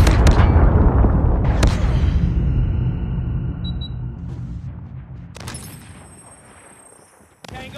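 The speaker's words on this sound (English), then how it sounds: "Friendly airstrike incoming." Airstrike blasts in the mobile game Call of Duty Mobile: several heavy, booming explosions land at intervals, each rolling off into a long decaying rumble, with a short electronic beep between them.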